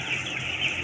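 Broiler chickens about two weeks old cluck steadily inside a closed-house barn holding some 5,000 birds on one floor, a dense close chorus with no talk.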